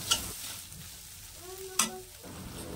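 Spice masala with turmeric is stirred and roasted in a pan for fried okra, giving a soft sizzle with a couple of sharp spoon scrapes against the metal, close and moderately quiet.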